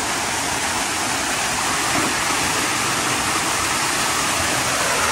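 A mountain waterfall rushes with a loud, unbroken roar of white water, a steady wash of noise that stays constant from start to end, with no talking.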